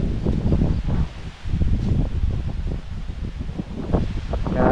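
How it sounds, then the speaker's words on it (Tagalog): Strong wind outdoors on a mountain, loud gusty roaring buffeting the microphone in rough uneven surges, with rustling texture and no speech. "Bakas yung hangin."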